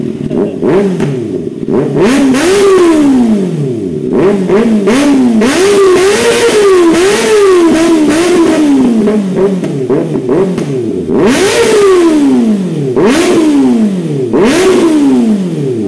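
A 2024 Kawasaki ZX6R motorcycle fitted with a new aftermarket exhaust revs hard again and again, the engine note climbing and falling in repeated loud sweeps close by.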